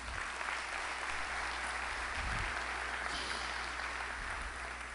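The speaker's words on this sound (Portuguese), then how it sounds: "uma salva de palmas para a Uningá." Audience at a Brazilian university lecture event breaking into steady, sustained applause, a dense wash of many hands clapping that stays even throughout, heard from a distance in a large hall.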